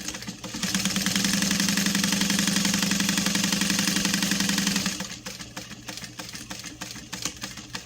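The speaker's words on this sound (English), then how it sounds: "And then we'll sew this other line." A sewing machine motor runs steadily for about four seconds while stitching a straight line through fabric. The hum is loud and close, then it stops and only faint handling noises remain.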